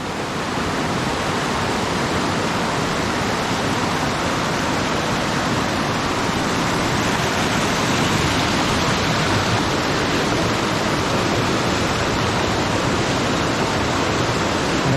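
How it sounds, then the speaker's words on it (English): Small waterfalls of runoff pouring down through gullies after heavy rainfall beside high creeks, a steady, loud, broadband rush of falling water that continues unbroken throughout. "You can see little waterfalls up there where the runoff's coming down through the little gullies."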